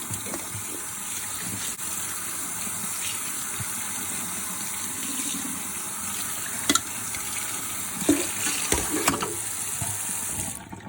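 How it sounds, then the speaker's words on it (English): Steady running water from a faucet rinsing strawberries in a colander, a continuous broadband rush with a few soft splashes and clatters near the end. "turn on our water and rinse them and gently toss them around like this under cool water"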